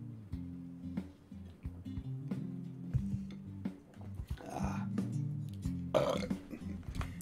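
A person's burp comes out as a long, low, rumbling belch with a few gurgling swells, quiet overall and heard on its own without speech.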